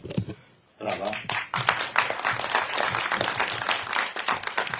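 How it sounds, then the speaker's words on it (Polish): Audience applause at a panel debate on pro-democracy organisations at the Igrzyska Wolności 2024 festival, a dense burst of clapping that rises after a short quiet start and holds steady, with voices mixed into the crowd noise. "Brawa."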